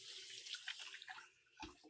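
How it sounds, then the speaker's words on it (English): Faint running tap water splashes briefly over hands being rinsed at a kitchen sink, a short soft gush with a small splash near the end. "I'm gonna give my hands a quick rinse."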